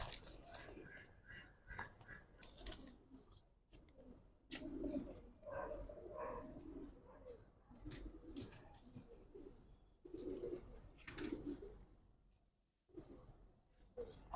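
Domestic pigeons of a fancy Giribaz breed coo softly and steadily near by, with repeated low throaty calls and a few chirps over a light background hiss.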